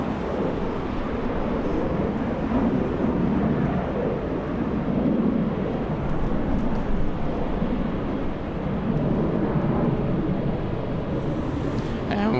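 Embraer E-175 jet on its takeoff roll at Los Angeles International Airport, a continuous low engine roar that holds steady and heard from a distance.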